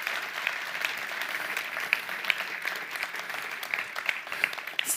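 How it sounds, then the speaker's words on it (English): A conference audience applauds, a dense, steady wash of clapping from a crowd that holds for the whole stretch without a voice over it. "they deserve a round of applause"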